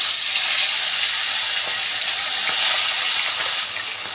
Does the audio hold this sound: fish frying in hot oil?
yes